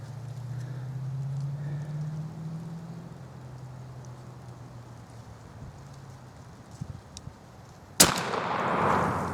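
A 20 gauge New England Firearms shotgun loaded with Apex number 9 shot fires a single loud blast near the end, after several seconds of quiet outdoor rumble, and the boom trails off in a brief echo.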